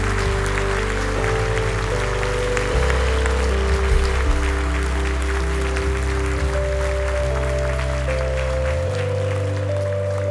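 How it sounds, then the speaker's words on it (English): Church congregation applauding at Calvary Chapel South Bay, a steady wash of clapping heard under sustained music with held low tones throughout. "Church, would you applaud them as they go?"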